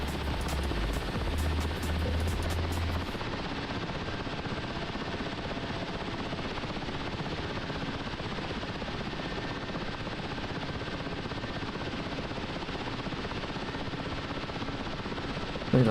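A helicopter flies in DCS World, its rotor and turbine roar a loud, continuous wash with a faint rhythmic chop, steady throughout with no talk over it.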